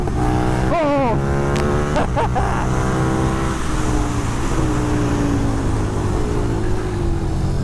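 Onboard a 2020 KTM 1290 Super Duke R on track laps, a loud steady engine drone with a brief sharp rise and fall in pitch as it shifts, under wind noise throughout.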